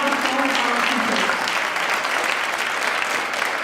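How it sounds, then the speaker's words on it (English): A concert audience gives sustained applause for the teachers, a dense, steady wash of many hands clapping throughout, loud and continuous with no pauses. "Let's give another round of applause to our wonderful teachers."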